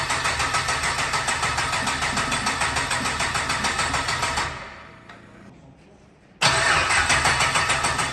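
A GM LS3 V8 cranks over with a steady, rhythmic churning for several seconds, falls quiet briefly, then cranks again just as loudly, close up.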